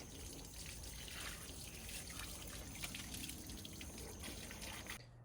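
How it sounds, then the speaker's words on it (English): Water from a garden hose runs steadily over a pool cleaner, a continuous close splashing trickle that holds even for about five seconds before stopping abruptly. "just get your garden hose and just kind of go over the entire area"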